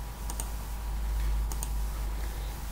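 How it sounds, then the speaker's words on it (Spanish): Mouse clicks selecting heroes in the menu of the beta PC game Marvel Avengers Redux, a few sharp paired clicks over a steady low hum, with no voices. "Se le da clic aquí para elegir los héroes."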